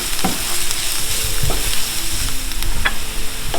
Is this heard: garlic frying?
yes